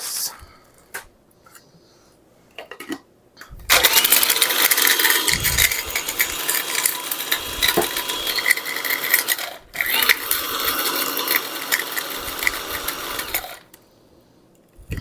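An electric spice grinder with its blade at the bottom whirs loudly through a homemade spice mix, a continuous close-up motor roar with a brief pause midway, framed by a few quiet clicks before and after.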